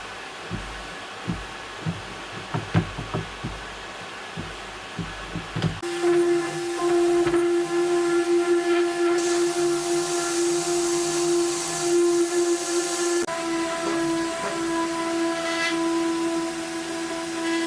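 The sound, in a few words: sanding machine sanding a car side skirt at 320 grit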